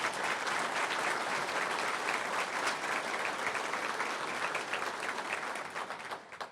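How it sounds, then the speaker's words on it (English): Sustained applause from an audience at a public safety awards event, dense and steady clapping that carries on for several seconds before thinning out toward the end. "She deserves a big round of applause."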